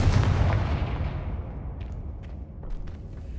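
A Confringo blasting spell explodes in Hogwarts Legacy: a heavy, booming blast at the start rolls off into a long rumbling decay, with a few faint crackling pops trailing behind.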